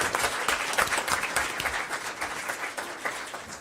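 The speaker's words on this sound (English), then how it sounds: "Y'all can give them another round of applause." Applause from the audience at a school district board meeting, a sustained mass of clapping, moderately loud and steady, with no voices over it.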